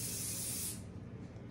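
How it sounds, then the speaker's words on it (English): A short, close burst of hairspray hisses onto a show poodle's coat during grooming, loud for under a second and then cutting off into quiet room tone. "you want to use a little bit less spray on your tips"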